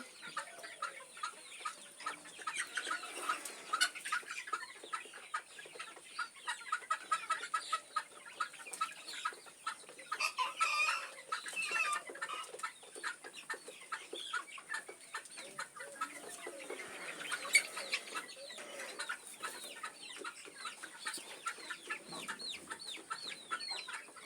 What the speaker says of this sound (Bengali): অতিরিক্ত গরম পড়তেছে, যার জন্য সবগুলা মুরগিরা অনেক কষ্ট পাচ্ছে।